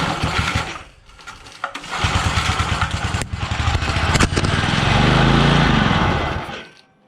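A flathead motor on a vintage mini bike runs with a loud, buzzy small-engine drone. It surges and holds steady, then winds down and cuts out near the end.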